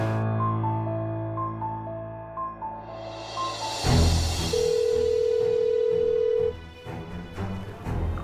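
A landline telephone rings out unanswered, its ringback tone pulsing steadily at moderate loudness amid dramatic background music, with no voice picking up.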